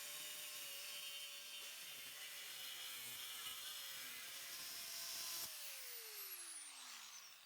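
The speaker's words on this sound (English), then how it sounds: "Using an angle grinder, I rough cut the circle out of the steel plate." An angle grinder rough-cuts a circle from steel plate with a loud, steady high-pitched whine, then the disc winds down with a falling pitch after about five seconds.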